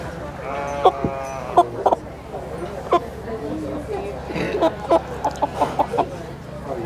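A chicken clucks in short repeated bursts at a small animal market and breeding show, close and fairly loud over a steady murmur of crowd chatter and other livestock.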